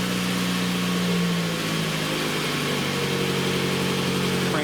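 A car engine idles steadily nearby during a battery test, a continuous low droning hum whose pitch shifts slightly partway through.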